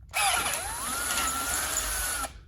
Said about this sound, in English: So now I'm going to drill it to the correct size that I need for the